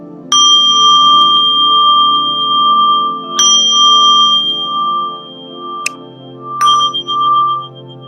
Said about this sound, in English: I'm going to ring a chime and let's breathe together